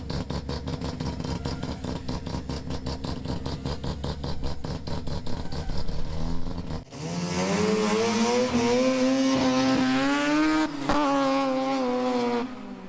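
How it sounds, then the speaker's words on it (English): Toyota AE86 with a 13B peripheral port rotary engine and a full stainless lobster-back exhaust with long headers, idling in a rapid choppy pulse, then revving hard into a loud, rising, raspy wail that holds high before dropping back. "The exhaust is a full stainless system that I've made"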